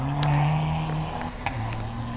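A Ford Fiesta R2 rally car on a WRC rally stage, engine note rising and falling near the microphone with a sharp transient partway through, steady motor drone throughout.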